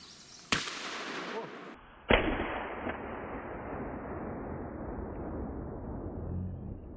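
A gunshot fired at trees in a forest: a sharp crack followed by a second louder report, each trailing into a long, fading echo rumble through the woods, heard at moderate distance without talk during the shots.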